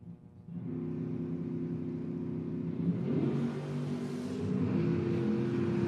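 A 1967 Chevrolet Nova and a Camaro launch side by side at a memorial drag race, their V8 engines roaring loud and steady as they rev up and pull away, the tone climbing with acceleration.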